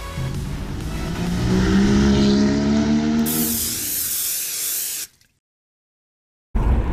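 A BMW sports car drives along with a steady, loud engine drone and road rumble, joined by a hissing rush partway through, before the sound drops out abruptly near the end and then resumes.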